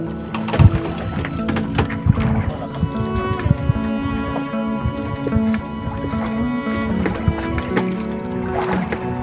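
A kayak paddled on open water while its rider fishes for squid, steady sloshing and splashing of water against the hull with occasional knocks, close and continuous, with a faint voice in the background.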